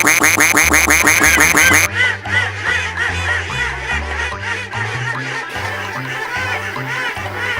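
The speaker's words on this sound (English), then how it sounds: "At least 5 quacks." Rapid cartoonish duck quacks from the Suikoden video game fire in a fast, even burst for about two seconds, then give way to bouncy game music.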